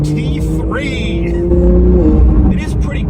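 Porsche 911 GT3 engine drones steadily while driving, rising in pitch under revving, with someone talking over it and shifting tonal sounds throughout.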